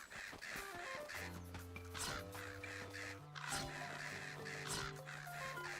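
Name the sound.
crows cawing in the video game Zelda: Echoes of Wisdom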